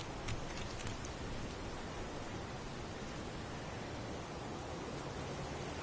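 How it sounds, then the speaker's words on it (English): Heavy pouring rain makes a dense, even hiss that stays constant and fairly quiet throughout, with no voices or other distinct sounds. "It's pouring rain."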